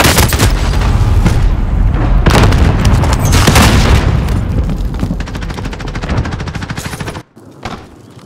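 Grenade blasts and rapid gunfire in the Call of Duty Warzone multiplayer mode: loud booms and clattering bursts crowd together, then thin out to scattered shots before a sudden drop near the end.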